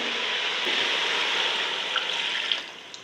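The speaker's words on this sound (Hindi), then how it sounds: "अभी पानी डालती हूँ।" A steady pour of water into a hot pan of fried chicken feet and spices, a continuous hissing rush that tapers off near the end, with no talking.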